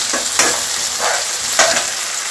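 Chopped onion hitting hot oil already crackling with cumin and fennel seeds, a steady close sizzle with a few spoon-stirring scrapes over about two seconds, no voices.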